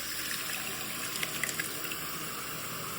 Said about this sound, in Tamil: உனக்கு அப்புறம் ஆட்டு ரத்தம். ஊத்துங்க.